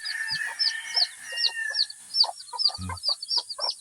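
Hens and chicks in a brood: rapid high peeping of many chicks runs throughout, with a few low hen clucks breaking in close by.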